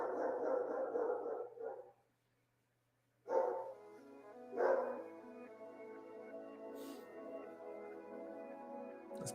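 A puppy gives a few short, high barks and yips nearby, separated by pauses, with a steady low hum in the background.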